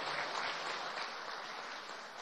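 Sustained applause from a large audience at a school year opening ceremony, a steady, even wash of clapping at moderate distance, fairly soft and without breaks.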